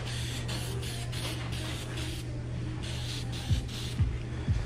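Spray can laying a wet coat of paint in repeated broad hissing bursts, steady and close, over a constant low electrical hum with a few soft knocks near the end.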